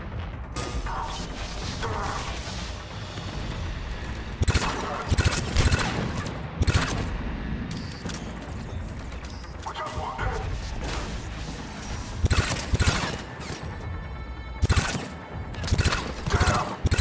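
A gun fires in the shooter Mass Effect 3 with loud bursts of shots and sharp cracks that come in irregular clusters over a busy combat background.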